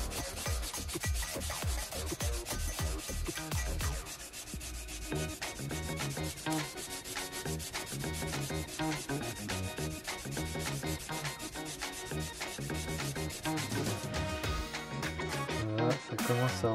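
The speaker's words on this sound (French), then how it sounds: "On va faire au grain 60 maintenant pour diminuer les rayures." A knife blade is rubbed with 60-grit abrasive during restoration: fast, steady back-and-forth scraping strokes repeat continuously at close range with no voices.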